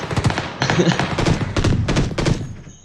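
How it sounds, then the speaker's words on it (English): Gunfire in the PUBG battle royale game on the Savage map: a chaotic run of loud, punchy shots and thuds in several close bursts, trailing off at the end. "It is chaos, there's gunfire everywhere"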